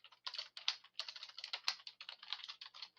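Rapid typing on a computer keyboard, a dense run of close, crisp key clicks in irregular bursts with no voices.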